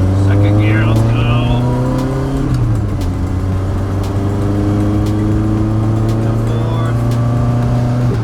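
A car engine pulls hard in second gear, its steady droning tone rising in pitch as it accelerates, loud and close from inside the cabin while occupants talk over it.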